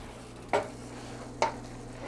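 Turmeric pasta stirred in a pan, two short scraping clatters about a second apart over a quiet background hum.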